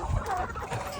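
Backyard chickens cluck briefly and close by, a short burst of low clucking over a soft, steady background hum with no talking.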